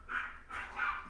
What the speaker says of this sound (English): And my dog is barking again.